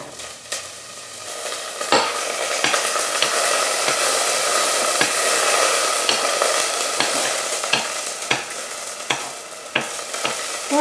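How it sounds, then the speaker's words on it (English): Pre-cut onions sizzling in a frying pan alongside pork chops, a steady loud frying hiss with intermittent clinks and scrapes of a utensil stirring, close up with no talking. "We're going to add our pre-cut onions."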